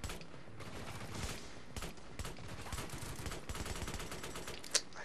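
Bursts of automatic gunfire in a Dark Zone firefight in The Division, a steady rattling fusillade at moderate distance with one sharper crack near the end, no voices.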